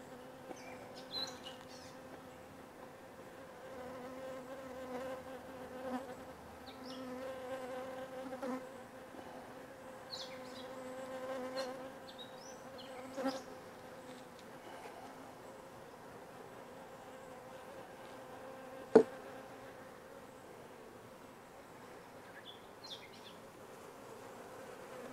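Honeybees buzz steadily around a hive, a dense droning hum with individual bees flying close past the microphone now and then, plus a brief sharp knock.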